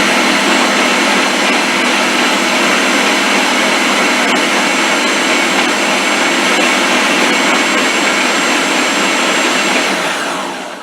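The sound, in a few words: Ninja blender mixing flour, sugar and salt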